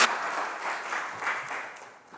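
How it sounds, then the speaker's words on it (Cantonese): A church congregation applauds during a worship service, a steady wash of clapping that holds for about two seconds before tapering slightly at the end. "俾掌聲"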